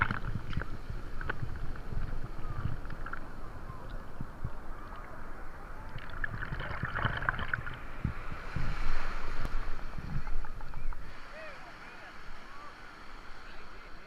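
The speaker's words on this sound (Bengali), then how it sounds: "কি বড় বড় ঢেউ উঠছে" Large sea waves roll and break on the shore at Puri beach, a steady broadband surf roar with wind buffeting the microphone and a person talking faintly over it.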